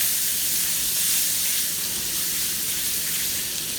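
Flour being stirred into hot fat in a pan for biscuit gravy, giving a steady, close sizzle with a faint scraping texture throughout, alone without talk.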